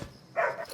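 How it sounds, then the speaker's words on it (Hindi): A single short dog bark rings out indoors, close and fairly loud, from a pet dog named Happy, with no talk over it. "अरे क्यों भौंक रहा है?"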